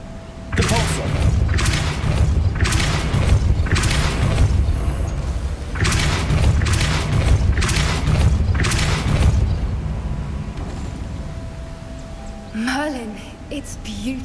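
A Depulso force spell is cast in the Hogwarts Legacy video game, with a run of loud, booming blasts in quick succession followed by a quieter stretch of game ambience and a brief chiming effect.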